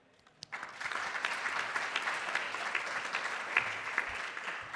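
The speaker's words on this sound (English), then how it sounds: "So let's give them a big round of applause." Audience applause breaks out at a food-waste solutions showcase event, starting after a brief pause and swelling into steady, moderately loud clapping with scattered sharper claps.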